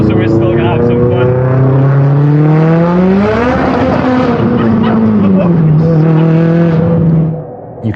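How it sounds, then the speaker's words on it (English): A car on a rain-soaked road spins up all four wheels, losing traction; a loud, steady engine tone rises in pitch, dips and settles, with wet tire roar and voices in the background. "You can hear the car brake traction as all 4 wheels spin up."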